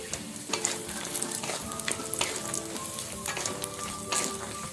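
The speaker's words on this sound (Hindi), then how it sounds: "तो इसी के साथ डाल देंगे काजू बादाम और अखरोट, ये भी इसी के साथ ड्राई रोस्ट कर लेंगे" Cashews, almonds and walnuts dry roasting in ghee in a pan, a steady close sizzle broken by repeated scraping stirs and small clicks of nuts shifting, with no voices.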